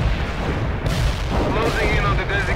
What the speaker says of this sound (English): Mortars will fire at the provided coordinates